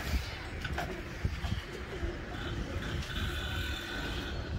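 Several pigeons cooing close by, soft repeated coos over a steady rustling background in a household loft where a flock of pigeons has gathered.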